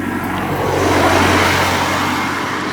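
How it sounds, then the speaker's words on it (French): A car sweeps past on a road near a town, a loud, close broadband rush of tires and engine that swells and fades slightly over a few seconds. "je vais m'arrêter de temps en temps parce qu'il y a une voiture qui passe"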